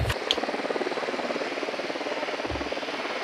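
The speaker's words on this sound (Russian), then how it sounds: "Дрон в полете." Small drone in flight in the video game Ghost Recon Wildlands, a steady whirring rotor buzz with a rapid pulsing flutter, joined by a few soft thumps.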